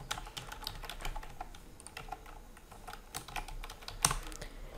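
Quiet, rapid clicking of keys typed on a computer keyboard, an uneven run of soft taps with one slightly louder keystroke near the end, alone with no talk.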